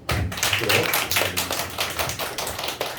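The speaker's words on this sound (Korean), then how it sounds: "우리 박수 한번" A church youth congregation claps in welcome for a newcomer, a burst of many hands clapping loudly and steadily for a few seconds, with no talking.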